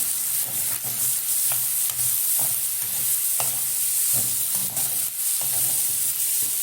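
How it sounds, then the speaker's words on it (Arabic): Two onions frying in a pan as they are stirred, a constant sizzle broken by repeated scraping strokes at an uneven rhythm, close and fairly loud. "حوالي بصلتين، وهقلبهم كويس جدا اهو"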